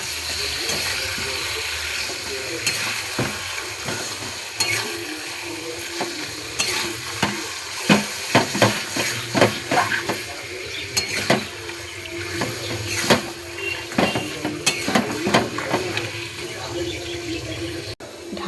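Onions fry in a pan for chicken curry and are stirred continuously, giving a steady close sizzle with scraping spoon strokes and occasional clinks, while a person talks at times over the cooking.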